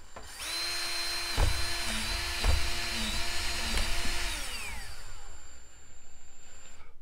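A power drill whirs steadily close by as it bores through PVC pipe, with a few knocks, then the motor winds down and stops.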